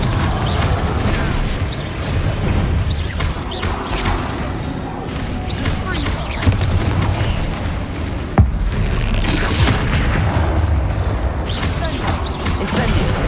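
Confringo spell blasts in the Hogwarts Legacy video game sound as loud booming explosions and crashes over a dense, continuous game soundscape, with a sharp hit near the middle.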